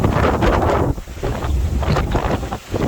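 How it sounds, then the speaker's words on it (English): Strong gusts of around 30 mph whip through trees outdoors, the wind buffeting the microphone in a loud, roaring rumble that surges and dips briefly, with no voices. "So, man, this wind is horrible. Look at these trees, man."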